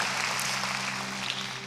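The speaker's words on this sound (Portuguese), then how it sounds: "Pode aplaudir o Senhor" A church congregation applauding during an anniversary service, a steady wash of clapping filling the whole short stretch without talk.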